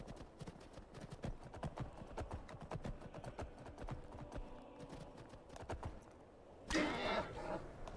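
Horse hooves clip-clop in quick, steady galloping beats in the video game Skyrim, fairly faint and continuous, ending in a brief louder rustling burst near the end.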